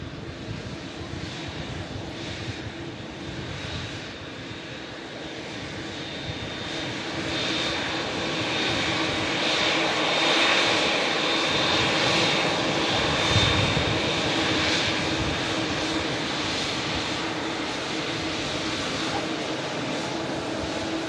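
Boeing 787 Dreamliner jet engines, a continuous roar that builds noticeably after the first few seconds and then holds loud and steady, with a faint high whine riding on top.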